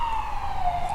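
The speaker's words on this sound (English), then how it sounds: "I'm sorry about the siren, guys." An emergency siren outside, a single steady wailing tone sliding slowly in pitch over about a second, moderately loud and alone.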